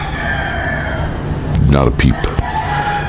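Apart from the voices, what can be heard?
roosters crowing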